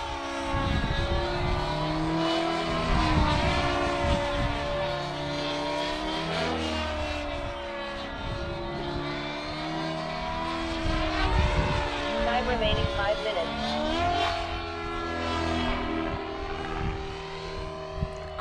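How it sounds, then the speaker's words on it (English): SAB Kraken 580 nitro RC helicopter in flight, its engine and rotor giving a steady, loud whine that shifts pitch up and down throughout, with wind or background noise mixed in. "Kraken is just an awesome helicopter, and a Nitro is even better"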